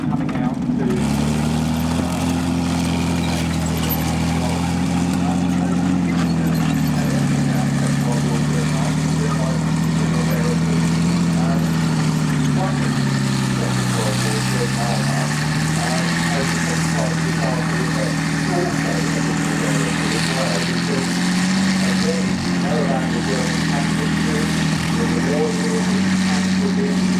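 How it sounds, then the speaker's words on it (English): The engine of a German Jagdpanther tank destroyer rumbles steadily as it drives into an arena at a tank show, a loud continuous low drone that dips and rises gently in pitch. "That's the Weald Foundation Jagdpanther coming out to"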